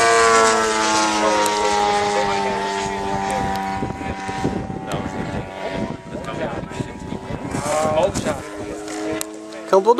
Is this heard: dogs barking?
no